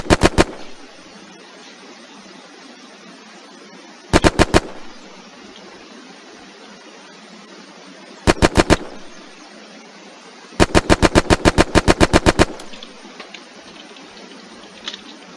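Gunshots from a Western Front weapons mod in the video game Unturned: loud, sharp bursts of rapid fire, a short volley, then two brief groups, then a longer string, with quiet gaps between.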